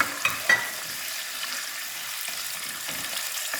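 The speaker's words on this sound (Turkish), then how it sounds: "Kızdırdığımız yağın içine etlerimizi boşaltıyoruz." Meat pieces dropped into hot oil for Uzbek pilaf sizzle and fry steadily at moderate loudness, with a couple of brief clatters near the start and no talking.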